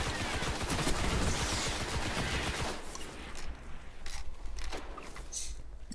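Rapid gunfire from a shooter in the video game Destiny, dense bursts of automatic shots for the first few seconds, then sparser, scattered single shots and impacts, loud and close with no talking.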